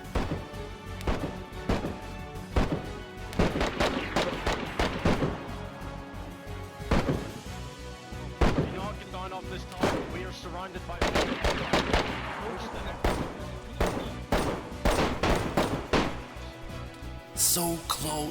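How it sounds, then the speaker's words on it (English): Rapid gunfire in a video game scene rings out in dense, repeated bursts of sharp shots and machine-gun volleys, with heavy thuds mixed in, continuous and loud throughout. "The gunfire intensified the closer I got to the main entrance."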